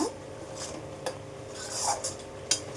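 Lote fish curry gravy is stirred in a cooking pan in a Bengali kitchen, giving quiet, close scraping and occasional metallic clinks of the spoon against the pan.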